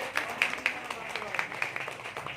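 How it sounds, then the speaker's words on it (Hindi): Audience applause at a gathering welcoming a speaker, brisk scattered hand claps from a crowd, moderately loud and sustained, with a voice heard through it. "एक बार जोरदार तालियों से"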